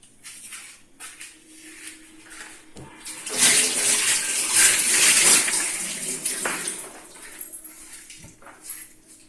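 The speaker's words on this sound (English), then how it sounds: "I'm going to wash my hands." Hands are washed under a running kitchen tap, with water gushing loudly for a few seconds in the middle and quieter splashes and handling noises before and after.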